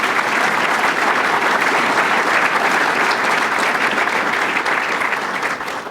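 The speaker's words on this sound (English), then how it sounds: "Let's give Steve a round of applause" Sustained applause from a civic meeting audience honoring a city mayor, a dense, steady clatter of many hands clapping at close range that holds level for about six seconds before easing slightly at the end.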